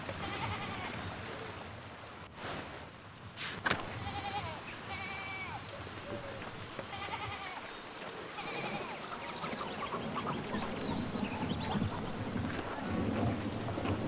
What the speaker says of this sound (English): Seems like we have a good spring storm, though I hope it lets up soon.